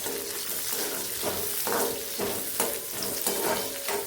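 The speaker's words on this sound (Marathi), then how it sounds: "बारीक चिरलेला कांदा टाकून घेऊया उभा चिरलेला कांदा आहे आता परतून घ्यायचं" Sliced onion sautés in a pan, giving a continuous hissing fry with a regular rhythm of scraping strokes as it is turned over. No voices are heard.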